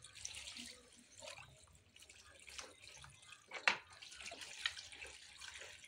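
Water draining through the holes of a container while cooked greens and rice are prepared in a Bihar village, with irregular splashes, trickles and drips, one sharp splash standing out midway.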